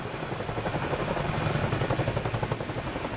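A Chinook helicopter's heavy, steady twin-rotor thump drones continuously at close range, a deep chopping rumble with constant engine whine above it.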